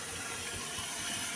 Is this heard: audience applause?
no